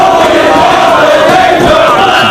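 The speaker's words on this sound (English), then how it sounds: "the crowd gets behind Daniels" A loud crowd at a professional wrestling tag event roars continuously, a dense, close wall of cheering and shouting that holds steady without pause.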